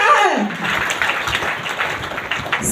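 Applause at a DXN meeting in Prayagraj, a steady burst of clapping from a seated audience lasting a few seconds, moderately loud and close, with a voice heard briefly over it.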